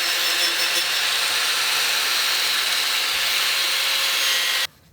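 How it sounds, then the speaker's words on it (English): A wire brush scours rust from a motorcycle fuel tank with a loud, continuous, close scraping hiss that runs unbroken for nearly five seconds before cutting off abruptly. "I'm gonna go ahead and try and wire brush some of this junk off of here"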